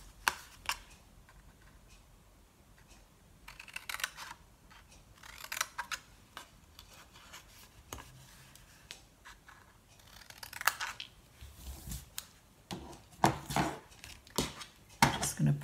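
Sharp paper snips cut through cardstock in quiet, close, crisp snips and slicing strokes, arriving in irregular clusters separated by pauses and light handling noises.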